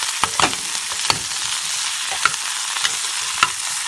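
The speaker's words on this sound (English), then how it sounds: "You can give this a good mix until the spices have blended and have mixed and well with the oil." Turmeric, cayenne, salt and cumin seeds being stirred into hot oil in a pan, a steady crackling sizzle punctuated by a few sharp spoon knocks.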